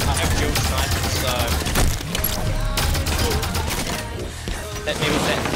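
Dual sniper rifles fire in a Halo 5: Guardians multiplayer match, loud booming shots mixed with dense game noise while a voice talks over them.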